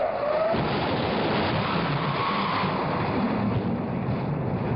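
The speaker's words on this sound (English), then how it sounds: "We have main engine start." Space Shuttle Discovery's main engines igniting on the launch pad, a loud, steady broadband roar with no breaks that fills the whole span, rumbling and hissing with a wind-like texture.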